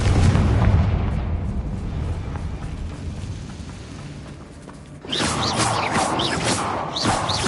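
A Confringo fire spell in Hogwarts Legacy explodes with a heavy, rumbling boom that decays slowly, then a burst of sharp crackling debris hits near the end.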